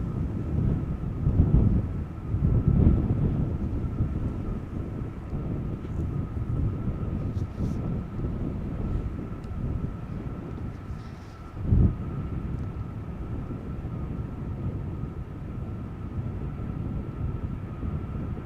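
A Delta Airlines jet departs Amsterdam Schiphol for Atlanta, its engine roar a sustained low rumble with a steady whine above. Gusts of wind buffet the microphone and one sharp thump lands near the end.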